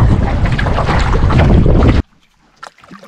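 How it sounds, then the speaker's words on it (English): Strong headwind roars and buffets the microphone while a canoe is paddled, loud and steady for about two seconds before cutting off to near quiet with faint rustles. "Into the headwind, awesome."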